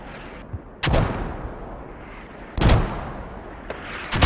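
Mortar fire in the video game Squad, heard as three heavy booming blasts spaced about 1.7 seconds apart, each with a sharp crack and a rolling tail, plus a faint thud early on, loud with no talking.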